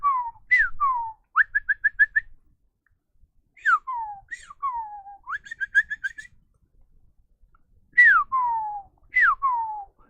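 A person whistles an imitation of a cardinal's call: clear downward-slurred notes alternating with quick runs of short repeated chips, in three phrases separated by pauses, close and alone.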